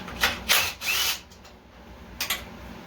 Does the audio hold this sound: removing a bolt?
yes